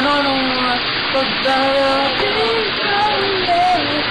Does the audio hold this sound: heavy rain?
yes